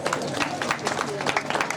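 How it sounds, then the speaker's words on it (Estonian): An audience applauds at a folk race award ceremony, a steady patter of many hands clapping at moderate loudness, with a voice talking over it. "Aitäh teile ka aplausi eest"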